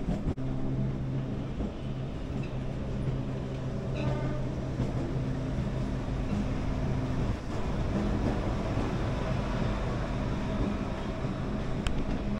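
Saffron Vande Bharat train pulling into Howrah station, a steady low rumble of rolling wheels and engine drone under busy platform noise, with a few faint squeals and clanks.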